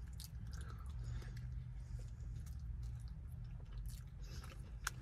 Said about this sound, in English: I just hit rice. This burrito is confusing me.